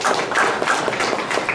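Audience applause at a Korean venture investment forum, a dense burst of many hands clapping at close range, steady and loud throughout with no pauses.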